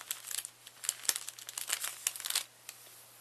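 A green pipe cleaner being bent and folded in half, giving a rapid run of close, crisp crinkling and scratchy rustles for about two and a half seconds before a final faint tick.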